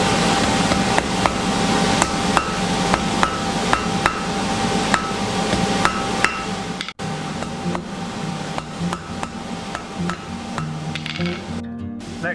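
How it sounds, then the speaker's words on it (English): Repeated hammer blows on 6mm steel rounds being forge welded, a steady rhythm of sharp metallic strikes over a constant forge or blower hum, pausing briefly midway before the hammering resumes with clinks. "The first step will be to fire weld 6mm rounds together."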